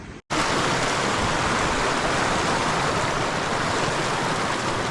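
A creek in spring runoff conditions rushes loudly and steadily, a dense broadband roar of flowing water close by that continues without a break after a brief silence at the start.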